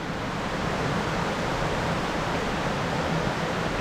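A massive waterfall in wild bush country near a cave, roaring as a steady, loud, unbroken wash of broadband noise with no pauses or voices.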